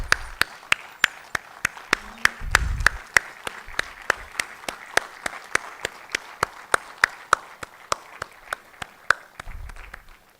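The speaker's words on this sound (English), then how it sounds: "And a big round of applause and a standing ovation," Sparse, spaced hand claps from a small audience at an institute's annual day celebration, a few dozen sharp claps in a steady loose rhythm, fairly distant, with low rumbles in places and no speech.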